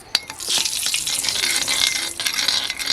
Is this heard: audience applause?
no